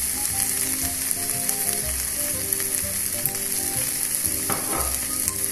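Rice with soy and curry sauce sautés in a pan with a steady, close hiss of sizzling, mixed with scraping and clinking from stirring, and no voices.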